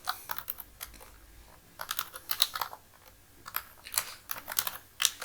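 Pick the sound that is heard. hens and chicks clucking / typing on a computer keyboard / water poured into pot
typing on a computer keyboard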